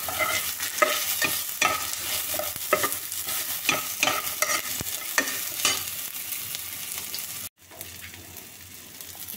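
Chilli powder and coriander powder frying in a pan while being stirred, a steady sizzle broken by rhythmic scraping strokes, loud and close, then a brief pause before it resumes more quietly.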